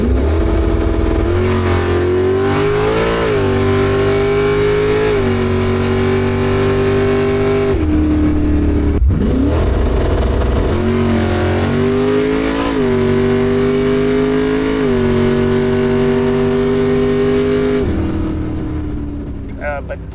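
A 427 cubic inch AMC AMX drag car engine revs up hard through repeated climbs in pitch, shifting at about 6,500 rpm with a brief drop between pulls, loud and close for a long sustained run.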